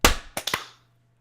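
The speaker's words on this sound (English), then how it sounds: "Let's do this clap in 3, 2, 1." A single sharp hand clap cracks close to the microphone in a quiet room, followed by a few quick, softer taps before the sound fades into near silence.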